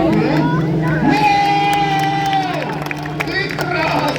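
Crowd cheering, whooping and clapping at a motorcycle stunt-riding show at a motorfest after a rider's handstand on the bike, loud and sustained throughout with shouting voices and an announcer talking over it.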